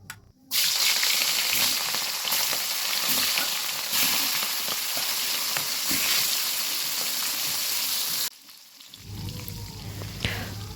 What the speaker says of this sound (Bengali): লবণ হলুদ মেখে এখন মাছগুলো সুন্দর করে ভেজে নেব।